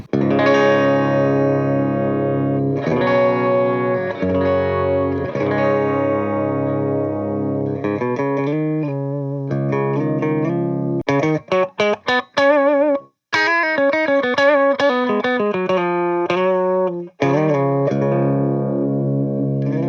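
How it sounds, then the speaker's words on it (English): An EVH SA126 electric guitar on its bridge pickup plays a clean tone through an Orange Rock Reverb amp, with sustained chords and then quicker picked notes and short riffs, loud and close with no voices. "So first, the clean sound on the bridge pickup."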